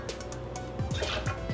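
Orange juice trickling and dripping into a cocktail shaker, a short close run of small liquid plops and splashes, quiet and alone.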